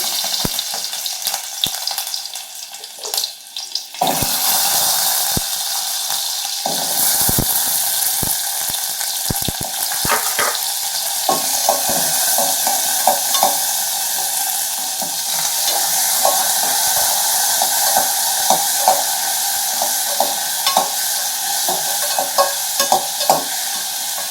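Garlic and tomato sautéing in a pan for a dry anchovy fry, a continuous bright sizzle with intermittent scraping stirs, following a quieter opening and a few sharp knocks around the middle.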